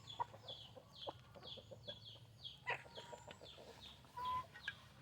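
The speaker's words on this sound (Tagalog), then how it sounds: "nagpakain po tayo ng mga alaga nating manok na Rhode Island" Rhode Island Red chickens clucking in short repeated calls at feeding time over a steady low background hum, several birds overlapping at moderate distance.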